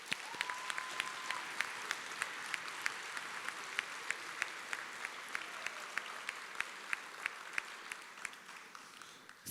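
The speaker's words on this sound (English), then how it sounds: "Please give them all a round of applause." Steady applause from an audience at a senior night awards ceremony at Dartmouth, with sharp individual claps standing out over the dense wash of clapping, held evenly throughout.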